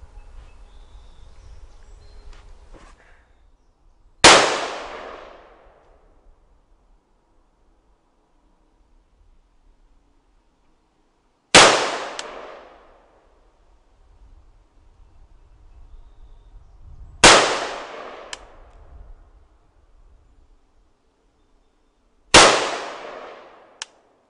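Polish Archer AK rifle firing 193 ammo outdoors: four loud, sharp single shots spaced several seconds apart, each with a quick ringing decay, over faint background ambience.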